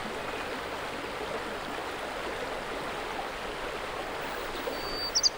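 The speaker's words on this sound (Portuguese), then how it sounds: "À medida que descem a montanha, os cursos de água banham uma galeria de árvores ripícolas" A mountain stream in Serra da Estrela rushes steadily past riverside trees, a close, broadband watery hiss that stays even throughout, with a couple of brief bird chirps at the very end.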